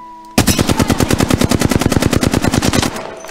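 Rapid automatic gunfire from a weapon in the video game Apex Legends, a loud sustained burst of about two dozen evenly spaced shots lasting nearly three seconds, heard alone with no talk.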